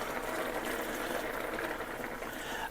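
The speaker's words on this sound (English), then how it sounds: "now we're going to add, it says up to 2 cups of beef broth" Beef broth is poured into a pot for beef bourguignon, a steady liquid splashing and gurgling that runs continuously at an even level with slight fluctuations, close by.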